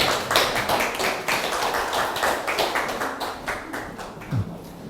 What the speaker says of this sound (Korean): 큰 박수로 맞아주시기 바랍니다.